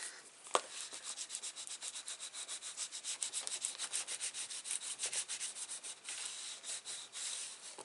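Dry, rhythmic rubbing of paper being burnished down onto a mini album page, a steady run of quick close strokes with no talking.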